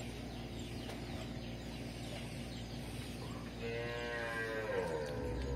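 Cattle in a farm corral call as a cow is separated from her calf. A low drawn-out moo rises over steady background noise in the second half, close and clear.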